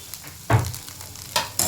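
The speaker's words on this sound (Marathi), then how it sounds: "आणि छान परतायचं आहे." Ground peanut powder being stir-fried in a pan for corn chivda, with a few scraping stirs over a soft sizzle, close and brief.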